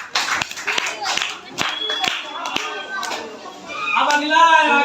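Scattered clapping from children for a student in a school quiz show, a handful of sharp separate claps mixed with lively chatter and kids' voices that grow louder toward the end.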